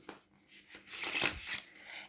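A riffle shuffle of a deck of Threadbound Oracle cards with bendy cardstock, heard as a short riffling flutter that builds into a dense, loud ripple of cards and then falls away, close and alone.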